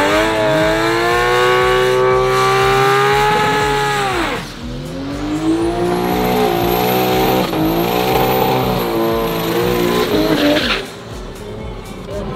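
Race cars at a South African cash day event roar past at high revs, with tires squealing and skidding in long loud bursts, engine tones rising and falling over about twelve seconds.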